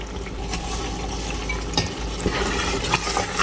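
Corned beef is stirred into simmering Ghana jollof sauce in a pot and gives a close, continuous wet sizzle with bubbling and scattered scraping clicks of the spoon.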